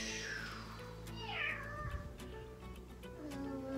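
A person imitates a cat during a yoga cat-cow stretch, giving a drawn-out meow that rises and falls, faint against a steady background hum.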